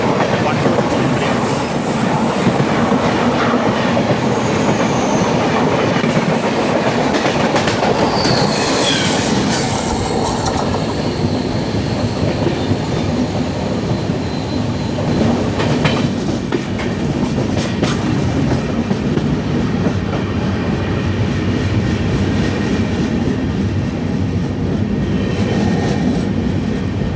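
The Venad Express runs along Indian rails between Thiruvananthapuram Central and Shoranur, a loud steady rumble of wheels with rhythmic clacking and occasional high squeals, heard continuously from on board.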